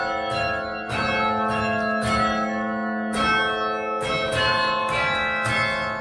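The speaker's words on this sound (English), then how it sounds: "the bells make it sound just amazing" The Beaumont Tower carillon rings out a slow melody, each struck chord blooming with long, shimmering overtones that overlap and sustain; loud and close, with no voices.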